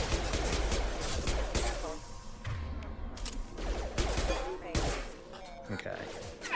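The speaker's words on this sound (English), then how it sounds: "that's heavy pistol, machine pistol." Machine pistol gunfire in Mass Effect 2, heard as loud rapid bursts of shots mixed with game combat effects and someone talking throughout.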